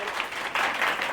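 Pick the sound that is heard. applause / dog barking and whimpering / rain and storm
applause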